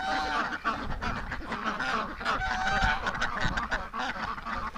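A flock of domestic ducks and geese in a winter pen, including Pekin, Rouen or Muscovy-type birds, keeps up a continuous chorus of overlapping honks and quacks, close and fairly loud, with no voices.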